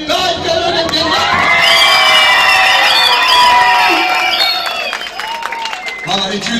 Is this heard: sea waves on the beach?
no